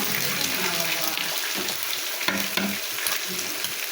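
Eggs going into a pan of tomatoes fried down with spices, a steady close sizzle with a few scraping stirs and light clinks, no voices.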